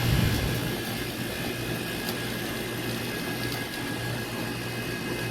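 Steady motor hum from the blower on a Carrier package air conditioning unit that is not cooling, a continuous broadband drone with a low tonal hum, close and fairly loud throughout with no talking.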